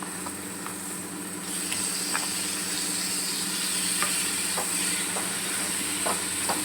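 Prawns stirred into a masala in a hot pan give off a steady, close sizzle with light scraping stirs, and there is no talking.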